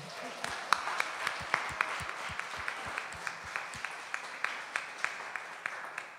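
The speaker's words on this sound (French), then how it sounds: "Bien, applaudissons-le." Church congregation at an evening prayer gathering claps, fairly quiet and distant, with a rhythmic, evenly spaced beat of hands standing out over softer scattered applause and faint room murmur.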